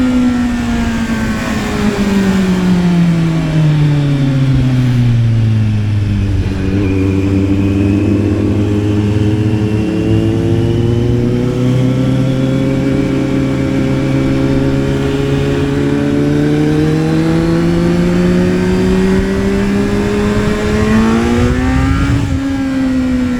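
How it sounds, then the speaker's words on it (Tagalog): Kawasaki Z900 inline-four motorcycle fitted with an Akrapovič exhaust, revving steadily and loudly up close, the engine note dipping and climbing through sustained rising and falling sweeps with a deep, bassy tone. "kung maririnig niyo yung pipe na yan, okay naman siya pakinggan sa video, pero pag nasa labas na, mag-bass talaga yan"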